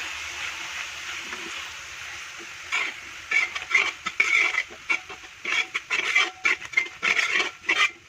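Chopped tomato and masala sautéing in a pan: a soft sizzle grows busier after the first few seconds, broken by quick, irregular spatula scrapes and stirs close by, with no talking.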